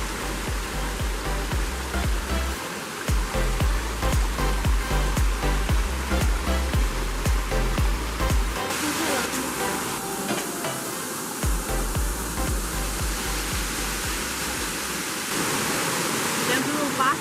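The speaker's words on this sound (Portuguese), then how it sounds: "uma das cachoeiras que existe aqui dentro é a Cachoeira das Almas" Cachoeira das Almas, a waterfall inside Tijuca Forest in Rio de Janeiro, roars as a steady broadband rush of falling water, loud and continuous throughout with low rumbling surges and no clear talk.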